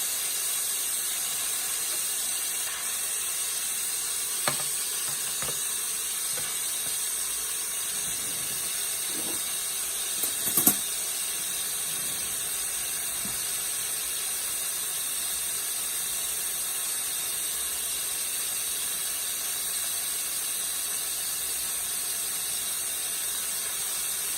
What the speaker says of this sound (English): I'm going to let the steam out.